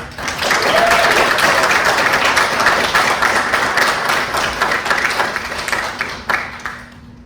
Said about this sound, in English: let's all give our leading actor a round of applause and show him our love